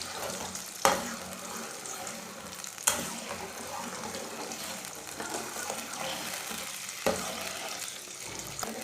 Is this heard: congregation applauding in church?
no